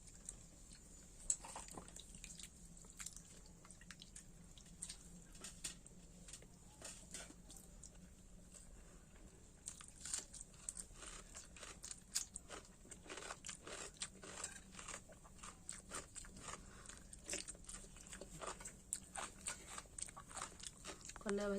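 Someone crunches and chews fried vegetable fritters such as plantain, bean and tomato bhaja with pakhala rice, giving repeated close crisp bites and chewing sounds in irregular bursts over steady low background hum.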